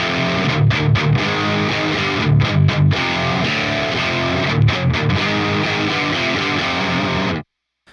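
A crunchy distorted electric guitar through a Friedman IR-X on channel 2 with boost and a 1980B cabinet, loud chugging chords with short rhythmic stops, ending in a sudden cutoff.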